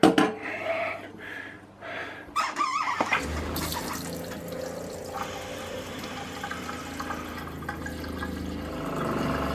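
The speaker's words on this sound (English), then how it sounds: "we're going to do the kitchen sink. And we're going to run hot after we open the drain." Hot water running from an RV kitchen sink faucet into the drain during winterizing, a steady close gush of flowing water after a few brief clunks and splashes at the start.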